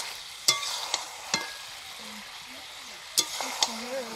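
Country chicken pieces cook in a pan, with a steady low sizzle broken by a few sharp stirring clicks and utensil scrapes close by.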